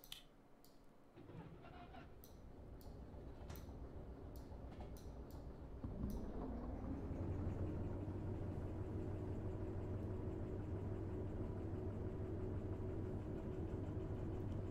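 A train locomotive in Derail Valley starts up: clicks and ticks first, then at about six seconds a low engine drone swells and settles into a steady hum that carries on, moderately quiet.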